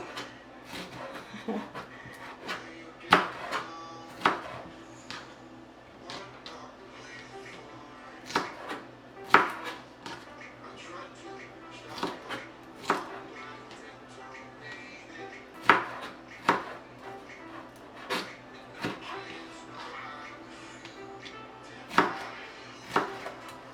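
A knife chops peppers diagonally on a cutting board in sharp, irregular thuds spaced a second or two apart, close and clear over a faint low hum, with a little quiet talk in the background.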